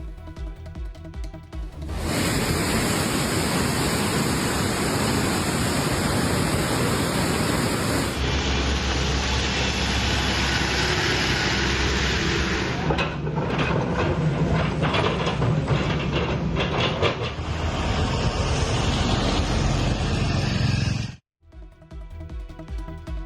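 Manimuthar waterfall in flood roars as a continuous, loud, dense rush of water, steady for about twenty seconds before a brief cut.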